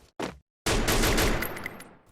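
Gunfire in the battle royale game Free Fire: a short burst, a pause, then a rapid fusillade of loud automatic shots lasting over a second.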